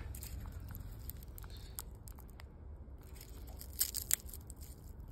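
A dried pine cone crunches faintly underfoot at a montane campground near the Grand Canyon, giving scattered soft crackles and a couple of sharper snaps near the end against quiet outdoor ambience.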